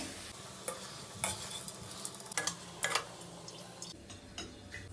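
Fried onions being stirred in mustard oil for chicken korma, with a faint sizzle under several scraping, clinking strokes of a utensil against the pan, quiet and close.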